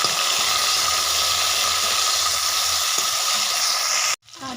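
Chopped tomato hits hot oil in a pan and sizzles loudly and steadily, a dense close frying hiss that holds for about four seconds before cutting off abruptly.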